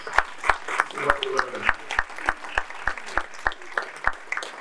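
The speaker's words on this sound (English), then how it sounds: "Let's give him a round of applause." Crowd at the Onyx Men Of Honor 2024 event applauding Michael Lederman of Orlando Shakes, with moderately loud, somewhat sparse clapping and distinct individual claps standing out in a steady rhythm, with voices mixed in.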